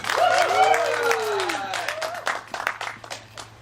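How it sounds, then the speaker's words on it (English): Audience at a graduation ceremony applauds the graduate's parents; clapping and crowd noise build under overlapping voices, with a voice prominent early before scattered claps continue toward the end. "Can we please give my mom and dad a round of applause for that bang-up job?"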